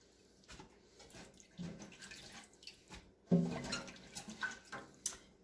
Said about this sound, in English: Put it in the colander and let the water kind of drain off of it a little bit.